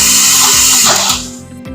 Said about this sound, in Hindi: ये अच्छे से ब्लेंड कर रहे हैं।